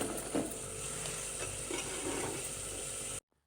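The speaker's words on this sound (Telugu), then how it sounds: "తర్వాత బీరకాయ ముక్కలను ఇందులో వేసుకొని బాగా కలుపుకోవాలి." Ridge gourd pieces stirred in a hot pan with turmeric, a steady sizzle with soft scraping stirs recurring every half second or so, quiet and close, cutting off abruptly near the end.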